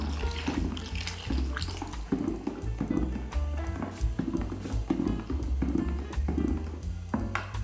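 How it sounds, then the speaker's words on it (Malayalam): Dishwashing liquid is poured into a bucket and stirred, giving a continuous sloshing, splashing liquid sound at steady, moderate loudness, with rhythmic pulses throughout. "ഇനി ഇത് നമുക്ക് ബക്കറ്റിലേക്ക് ഒഴിച്ചിട്ട് മിക്സ് ചെയ്ത് കൊടുക്കാം"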